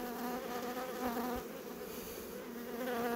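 Honey bees buzz steadily around an opened beehive, a faint continuous drone close by with no talk.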